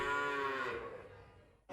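A calf gives one loud, close moo that fades out, followed by a brief sharp noise at the end.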